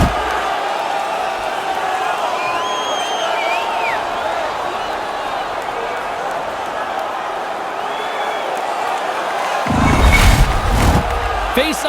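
Crowd in a hockey arena during a 1981 NHL quarterfinal game between Minnesota and Buffalo, a steady roar of cheering voices with a louder swell of noise near the end as a commentator talks over it.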